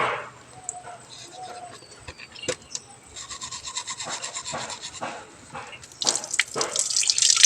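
Tap water running for face washing, with irregular splashing, rubbing and dripping close up, growing louder and denser toward the end, while people talk intermittently.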